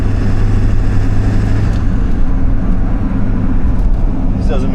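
A Ford 7.3 diesel truck drives along a road with a loud, steady engine drone from inside the cab, and a voice talks over it.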